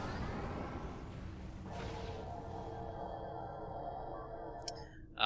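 A starship sensor scan in the Star Trek Online video game makes a sweeping electronic hum with a rising whoosh and sustained tonal layers, followed near the end by a few bright beeps and a short chirp.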